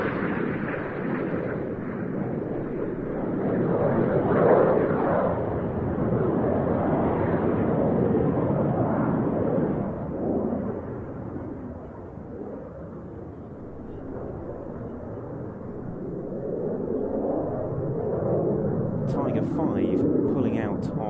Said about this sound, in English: we now have 2 aircraft performing the roll